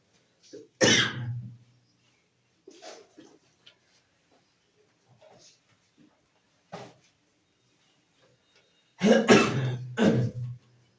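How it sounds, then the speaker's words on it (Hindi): Harsh coughs burst out near the start and again near the end, loud and close, separated by quiet stretches with small scattered noises. "खांसी जा नहीं है भाई।"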